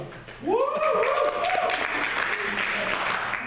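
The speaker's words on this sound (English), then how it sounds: "let's give a round of applause for our three debaters" An audience applauds the three debaters at a net neutrality debate. Steady, moderately loud clapping swells in after a rising voice and carries on through the rest of the clip.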